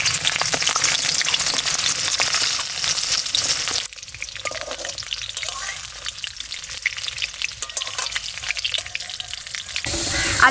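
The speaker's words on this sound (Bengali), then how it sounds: "আলুটা ভেজে নেব, তার জন্য কড়াইতে তেল দিয়ে দিচ্ছি।" Potatoes frying in hot oil in a wok for a village-style duck curry give a loud, steady sizzle, with a sharp crackling burst at first that settles into a softer, continuous hiss.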